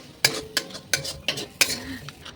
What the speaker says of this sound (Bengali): আমি ডিম ভাজা করছি